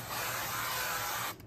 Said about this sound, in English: this is their Lodge seasoning spray